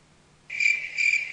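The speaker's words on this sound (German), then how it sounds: "Du meinst das Grillenzirpen?" Cricket chirping sound effect from the Phoenix Wright: Ace Attorney video game: two clear, shrill trilling bursts after a moment of near silence, steady and moderately loud, with no voices.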